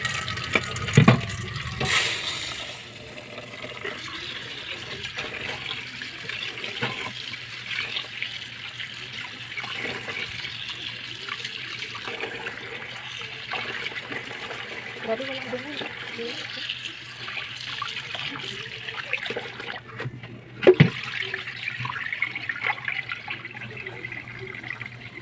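Uncooked rice is being washed by hand in water, giving a steady swishing and trickling wash of sound with a few louder splashes, while a person talks over it.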